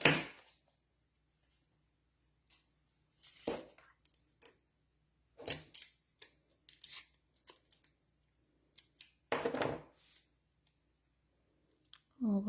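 Scissors snipping paper for a handmade Christmas card, a few separate short cuts spread apart with quiet gaps, close by, with brief voices in between.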